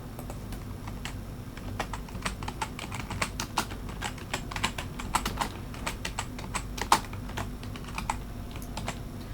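Fingers type steadily on a computer keyboard while entering data into a Microsoft Excel spreadsheet, a continuous patter of close, crisp key clicks with occasional louder strokes over a low background hum.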